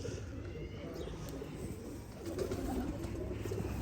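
A Lakha breeder pair of pigeons coos in low, muffled rolling calls amid a dense background murmur, faint and continuous throughout.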